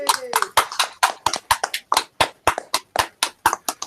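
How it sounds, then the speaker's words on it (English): A small audience gives a sparse round of applause, roughly a dozen distinct, sharp claps from only a few pairs of hands in an uneven rhythm, close and fairly clear. "can we give Rich a nice big hand of applause, round of applause?"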